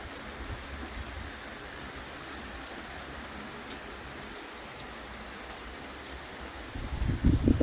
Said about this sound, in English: It was a great little shower.